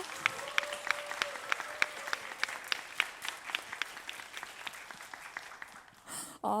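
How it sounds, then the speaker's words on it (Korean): Steady applause from an indoor crowd at a team fan send-off event in Busan, many hands clapping with sharp claps standing out, continuing for several seconds before a louder burst at the end. "여러분 도부 선수에게 박수 한번 부탁드릴게요."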